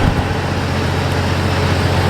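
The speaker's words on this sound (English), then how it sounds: "I hear a truck pulling in now" A truck's engine rumbles steadily nearby as it pulls in, a low continuous drone with road noise.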